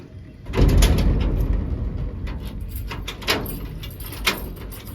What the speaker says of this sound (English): Okay, let me close my door.